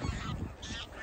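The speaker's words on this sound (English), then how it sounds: "There's geese everywhere, there's a couple of swans out on the Trent" Geese honk close by in a brief burst of overlapping calls, loud and nasal against outdoor background noise near the River Trent.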